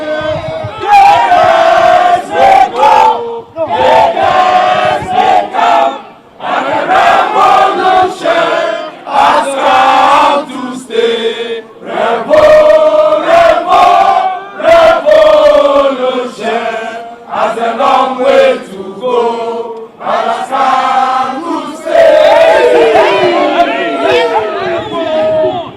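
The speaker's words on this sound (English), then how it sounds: "you can hear supporters of the National Democratic Congress, NDC, singing and chanting here" Crowd of National Democratic Congress (NDC) party supporters singing and chanting together, loud and close, a continuous dense mass of voices with rhythmic pulses and short pauses between phrases.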